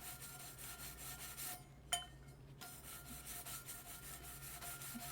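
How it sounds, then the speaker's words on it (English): Light hand sanding of a sublimation tumbler makes steady, rhythmic rasping strokes, quiet and close, broken by a short pause and a faint clink, with no talking. "Give it a light sanding"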